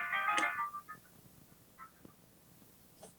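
A telephone rings once during a call at a monthly club meeting, a bright electronic trill at the start that fades, followed by quiet with faint clicks.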